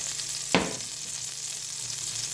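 Butter and olive oil sizzle in a hot pan before fish goes in for a sear, a steady hissing fry with one brief louder crackle near the start, alone without talk.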